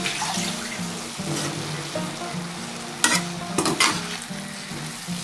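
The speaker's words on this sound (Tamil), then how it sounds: "ஒரு 1/2 டீஸ்பூன் மஞ்சள்தூள் இதை போட்டு நல்லா கிளறி விட்டு மூடி வச்சிடலாம்." Chopped banana flower with turmeric sizzles in a pan while being stirred, giving a steady close frying hiss broken by a few louder scraping stirs and clatters, with no voices.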